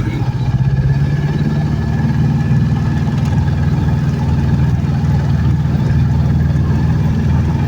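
A small Aixam microcar engine idles steadily and close by, a continuous low rumble with an even rhythmic chug throughout, the engine not yet fully warmed up.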